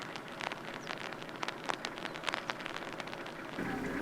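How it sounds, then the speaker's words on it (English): Steady rain falling outdoors in open Ugandan countryside, a dense continuous patter with scattered sharper drops across the whole span, no voices. "It's raining and it's peaceful."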